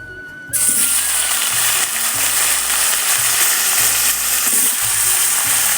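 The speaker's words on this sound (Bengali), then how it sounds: "শুধু আলু আর কাঁচা কলাগুলো আমি তেলে ভেজে নেব" Potatoes and raw banana fry in hot oil for a lata fish curry, giving a loud, close, continuous sizzle that bursts on suddenly, with intermittent scraping stirs underneath.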